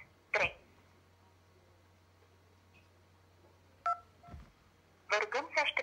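Telephone keypad tones select an option in the Romanian customs service hotline menu: one short beep early on, another midway, then a quick cluster of beeps near the end, all over a faint steady line hum.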